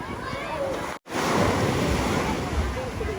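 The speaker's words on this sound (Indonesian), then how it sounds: "Ombaknya itu padahal lumayan kenceng ya." Strong surf breaking on a busy beach on Java's coast, a continuous broadband roar of waves with wind noise on the microphone, briefly cut out for a moment near the start.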